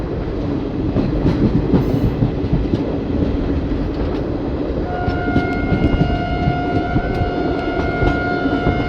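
The Malda-Howrah Intercity Express pulls out of Katwa station on a curve, a continuous loud rumble of wheels and carriages with clattering track noise and a sustained tonal whine joining partway through.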